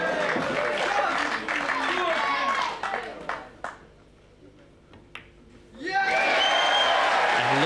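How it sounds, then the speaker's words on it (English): A crowd at a 1995 Mosconi Cup pool match applauds loudly, fades into a near-silent pause, then bursts into applause again, with commentary talk over the first stretch. "And listen to the crowd."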